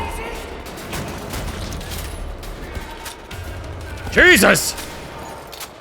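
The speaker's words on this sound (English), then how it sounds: "I'm gonna have to ask y'all to stop shooting me like that." Enemy gunfire aimed at the player in the shooter game Wolfenstein: The New Order, a steady crackle of shots under busy game noise, with a man's brief startled exclamation near the end.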